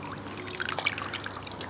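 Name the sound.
pouring water into blender with papier-mâché mixture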